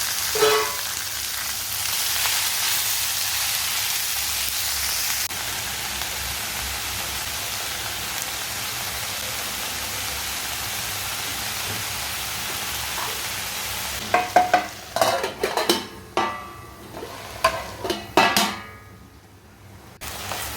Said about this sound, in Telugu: తర్వాత సిమ్లా మిర్చి వేసి కొంచెం ఉప్పు పసుపు వేసి మూత పెట్టేసి కలిపాలన్నమాట